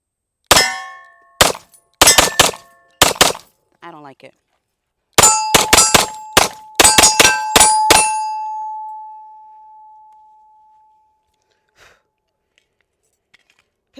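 A Girsan 2311 Match X pistol fires a rapid series of shots at an outdoor steel target, each crack followed by a sharp metallic clang, with a bright ring that lingers and fades after the final shot.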